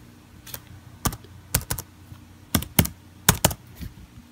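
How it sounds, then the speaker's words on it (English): Keys clatter on a computer keyboard as a password is entered to unlock an iPhone setup, about nine crisp close taps arriving in small irregular clusters against a quiet room. "Let's go ahead and do that and enter the password."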